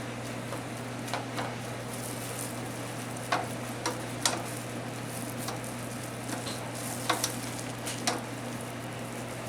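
Biscuits-and-gravy ingredients with butter and bacon cook in a pan, giving a steady low sizzle with occasional pops and ticks, moderately close and with no voices.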